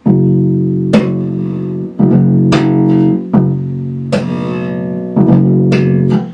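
Five or six plucked bass guitar notes, fretted with the string pushed down, ring out, each sustained with a sharp attack before decaying, loud and close.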